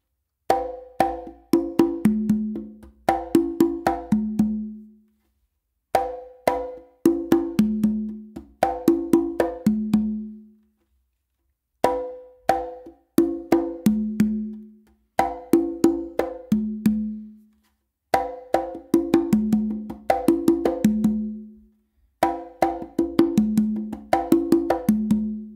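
Conga tumbao groove with open tones and sharp slaps, played solo and close in repeating phrases of quick strokes separated by short pauses, steady and crisp across the whole stretch.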